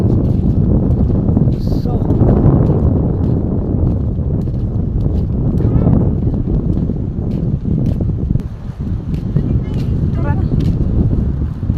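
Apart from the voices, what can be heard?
strong wind at Lio Beach, El Nido, Palawan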